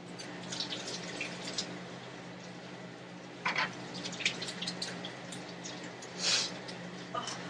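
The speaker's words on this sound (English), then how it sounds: "And I'm gonna go wash my hands." Running tap water splashing over hands at a home kitchen sink, a quiet steady trickle with a few louder splashes and drips.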